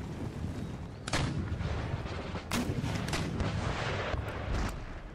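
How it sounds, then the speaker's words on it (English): Artillery booming on the battlefield of the strategy game Empire: Total War: a handful of heavy cannon shots land at irregular intervals over a steady rumble of battle ambience, with no voices. "Let my artillery go to work."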